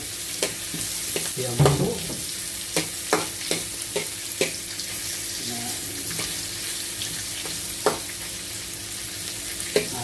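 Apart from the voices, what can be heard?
onion sizzling as it fries in a pan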